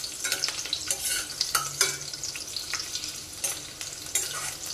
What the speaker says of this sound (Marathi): हलवून घ्या थोडं लसूण।